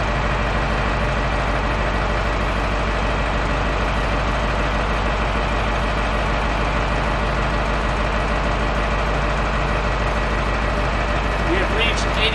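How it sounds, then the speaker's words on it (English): A truck engine runs steadily while its air brake compressor builds pressure, producing a loud, constant low rumble with a droning mechanical hum and no break. "The second test is the compressor test."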